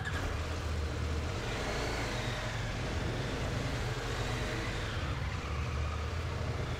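Steady engine running of a 2023 CFMOTO IBEX 800 motorcycle, a constant broadband drone with low rumble at moderate level, no talking.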